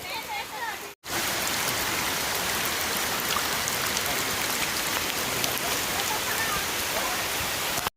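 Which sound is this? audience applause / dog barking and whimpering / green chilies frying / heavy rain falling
heavy rain falling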